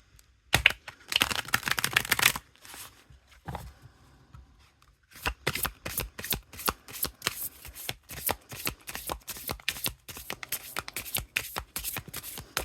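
A deck of matte, lightly glossy cardboard Persian tarot cards is shuffled by hand up close. A crisp riffling burst comes first, then a long run of quick, rhythmic slaps and flicks as the cards are handled and cut.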